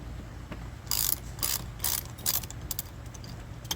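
A socket wrench ratchets in quick bursts of clicking while loosening two nuts on a 1981 Mercury outboard motor, close and clear over a low background hum.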